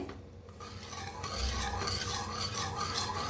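A spoon stirring dill greens bhaji in a pan: a soft, continuous scraping and rustling with a faint sizzle underneath, quiet and close.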